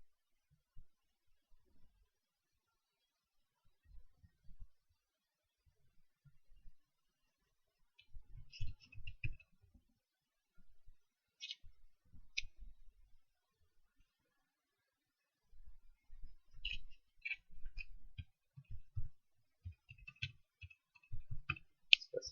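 Soft keyboard typing in quiet bursts while Perl code is entered, faint clicks coming in uneven runs separated by pauses.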